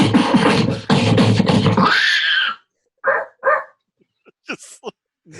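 A voice imitates a dog, with a loud, gruff two-second barking and growling burst up close, followed by a few short, scattered vocal yelps after a pause.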